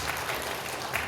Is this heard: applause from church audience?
yes